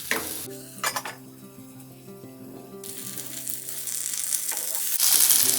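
Stuffed brinjal frying in a pan with its masala, a steady sizzle building louder toward the end while a utensil stirs and scrapes against the pan in a few distinct strokes.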